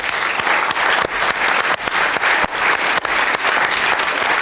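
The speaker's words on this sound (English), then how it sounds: "Let's give her a big round of applause." A hall audience at a FIFA women's football panel event claps loudly and steadily, with a few sharper individual claps standing out from the continuous dense applause throughout.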